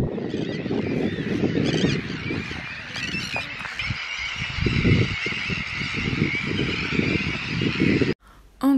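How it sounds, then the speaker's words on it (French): Dense noisy colony of gulls and terns calling all at once, overlapping loud squawks and cries close by that run continuously before cutting off briefly near the end. "il y a une colonie de mouettes et de sternes qui vivent ici, du coup ça fait beaucoup de bruit"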